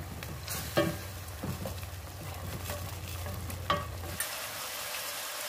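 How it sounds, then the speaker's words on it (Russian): Pork ribs and sausage frying in a pan with half a glass of wine, a steady close sizzle with a few stirring knocks, the sizzle cutting off abruptly near the end. "Добавляем полстакана вина и готовим до испарения."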